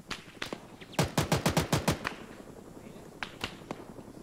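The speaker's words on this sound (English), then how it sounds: "Shots come from direct west." Gunfire in the Arma 3 military video game: a few scattered shots, then a fast burst of about eight rapid cracks, followed by a couple more distant single shots.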